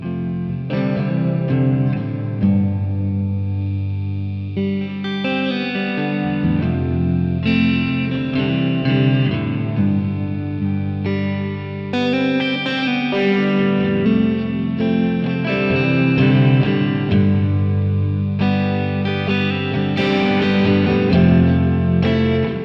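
PRS USA Silver Sky electric guitar fingerpicked through an amp's Dumble preset with reverb, full ringing chords played in a steady sequence, close and warm with sustained low end and no voices.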